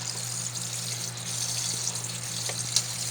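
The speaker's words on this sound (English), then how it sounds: "Make sure that running water gets to cover everything" Tap water runs steadily over spaghetti pasta being rinsed, a continuous splashing hiss with occasional small clinks.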